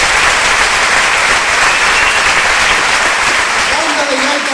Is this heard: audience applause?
yes